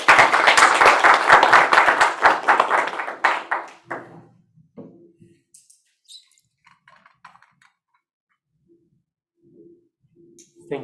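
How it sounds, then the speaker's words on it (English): A short burst of clapping from a few people fades out after a few seconds, leaving scattered faint taps and near silence. "Thank you, Minier, for clapping on live."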